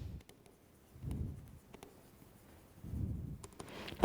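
Writing on a board during a Class 10 lecture on electricity: two bursts of scratchy strokes with short quiet gaps between them, close and fairly soft, with no talk.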